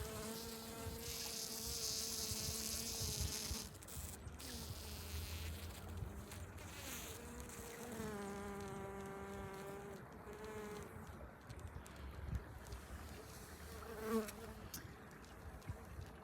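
Many honeybees buzz continuously around a hive, a dense droning hum with individual bees whining past, fairly quiet and close.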